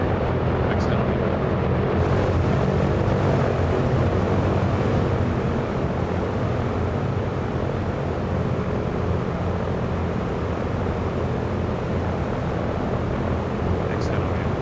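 Engines of a B-17 bomber in Microsoft Flight Simulator 2024 drone on in a loud, steady, unbroken roar throughout the flight over the Grand Canyon.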